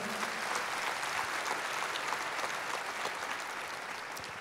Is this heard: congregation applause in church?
yes